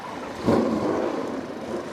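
The 5.7-litre V8 engines of EuroNASCAR stock cars fire up together on the starting grid at the Croatian round, a broad rumbling roar that swells suddenly and holds, heard from a distance.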